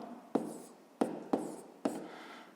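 A pen writes out a multiplication calculation for a fifth-grade maths exercise, with four distinct sharp taps and short strokes spaced unevenly, close and quiet in an otherwise still room.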